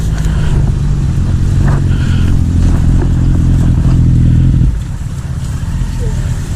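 A motorcycle with a loose exhaust clamp idles loud and rumbling up close, with people talking over it, then drops to a quieter idle near the end.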